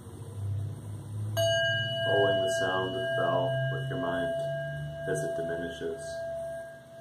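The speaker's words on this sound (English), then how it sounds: "Letting the bell ring within you so the vibrations expand outward" A meditation bell rings with a clear sustained tone that lingers and decays, while a person speaks calmly over it throughout.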